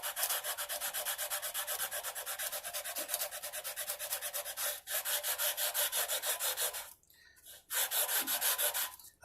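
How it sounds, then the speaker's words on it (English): Sandpaper on a leveling tool rubbed back and forth across banjo frets: rapid, even, raspy strokes repeating close up, with a short pause before the rhythmic scrubbing resumes. "Just sand this until you see all the tops that are hit."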